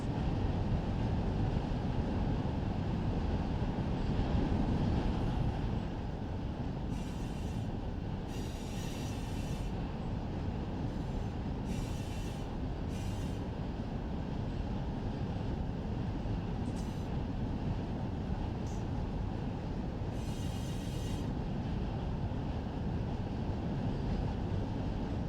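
A locomotive on the Fresno to Modesto route in Run 8 Train Simulator pulls away slowly with a steady, dense rumble of engine and rolling wheels, broken by several brief higher squeals and hisses; no talking.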